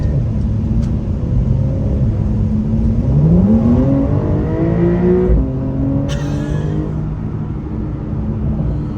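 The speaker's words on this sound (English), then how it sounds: "I'll be able to give you a little bit of a pull as we get onto the on-ramp." A Porsche 911 Carrera S engine revs up and accelerates steadily onto a freeway on-ramp, its pitch climbing through the gears, loud and close over continuous road rumble.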